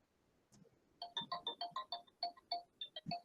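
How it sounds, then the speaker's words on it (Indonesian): A telephone rings in a quiet lecture room, a bright electronic ringtone pulsing in quick repeated bursts, fairly near, with a faint soft thump under it and no talk. "itu ada telepon tuh ya"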